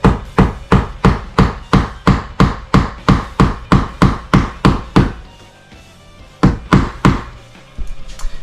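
Steady, loud hammer blows drive golf tees into wood in an even rhythm, about two per second, pause briefly, then resume with a few more hits.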